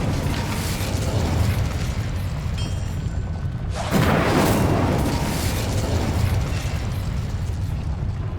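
An Incendio fire spell cast in the video game Hogwarts Legacy, a loud, sustained roaring burst of flame that surges partway through over constant game noise.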